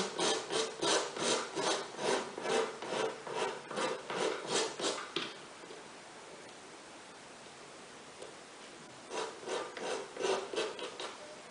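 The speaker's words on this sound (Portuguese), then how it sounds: "Como eu tô em casa, tô sem estilete, eu vou cortar com a lixinha de unha." A nail file rasps against scrapbook paper to trim it, producing a rhythmic run of quick back-and-forth scraping strokes, then a quiet pause, then a second shorter burst of filing, close and fairly loud.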